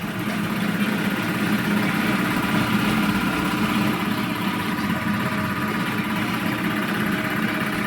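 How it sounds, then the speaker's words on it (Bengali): A mustard oil press machine runs with a steady, loud mechanical drone and a low rumble, continuous and unbroken throughout, with no voices. "দেখুন তেলের মেশিনটা"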